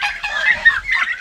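Farm turkeys call out in a close, continuous honking cry lasting about a second, clear and alone.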